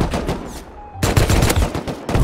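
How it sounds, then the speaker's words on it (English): AK rifles fire in Rust, loud rapid automatic bursts close by, briefly pausing before another dense volley resumes. "They're shooting out a roof"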